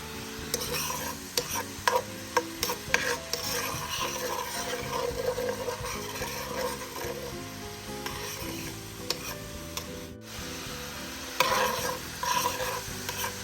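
Shrimp and spinach pasta ingredients fry in a pot, giving a close, continuous sizzle broken by frequent clinks and scrapes of stirring.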